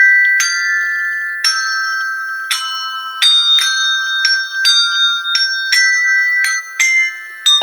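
Bright colored musical hand bells ring out single notes one after another, each chime clear and lingering, in an irregular melodic sequence with no talking.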